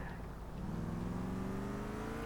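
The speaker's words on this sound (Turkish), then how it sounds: "Şöyle bir araba geldi." A car in the video game GTA IV approaches with a steady engine drone that rises slightly in pitch, fairly loud and continuous throughout, with no talking over it.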